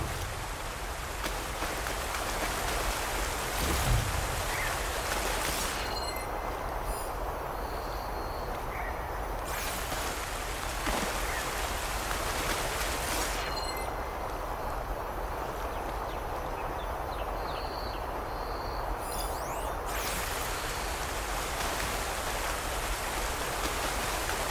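A waterfall in Horizon Forbidden West rushes continuously with a dense, hissing, rain-like texture. Its brightness shifts slightly in a few spots as the scene changes.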